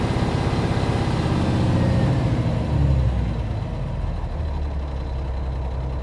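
A Kenworth truck engine runs steadily as the throttle is held open, a loud, continuous low rumble with a slight swell partway through, then easing back to a constant drone.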